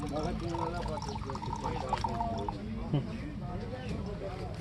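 Filtered drinking water is poured into a glass in a steady, continuous trickle, heard beneath ongoing talk nearby.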